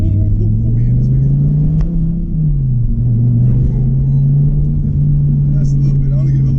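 A Dodge Viper ACR engine pulling hard from inside the car, a loud, steady low rumble whose pitch climbs and dips slightly as it accelerates, with faint voices buried under the engine.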